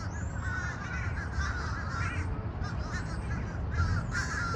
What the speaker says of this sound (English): That's a whole lot of birds chirping.